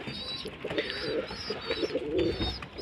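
Pet pigeons coo close by in a run of soft, throaty, repeated coos with a few higher chirps in between, heard over light background noise and no talking.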